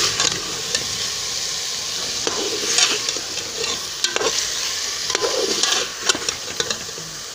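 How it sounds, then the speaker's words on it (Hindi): Ground garlic and ginger paste fries in a hot pan with a steady, loud sizzle, broken by scraping stirs as it is worked around, no voices. "अब हम इसमें लहसुन अदरक डालेंगे जिसको कि हमने बारीक पीस लिया है। और इसको अच्छी तरह से भूनेंगे।"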